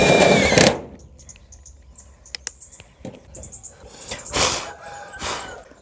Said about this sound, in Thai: สว่านบล็อกตัวเนี้ยที่พ่วงกับดอกสว่านนะครับ เราไม่ต้องดึงปลั๊กไฟขึ้นมาก็ได้นะครับ